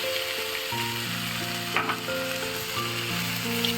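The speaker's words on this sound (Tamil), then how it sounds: "தக்காளியை சேர்த்து ஒரு 2 நிமிஷம் வதக்கிட்டு" A steady sizzle of chopped tomatoes and onions sautéing in a hot pan for onion chutney, with light stirring, under a soft musical background.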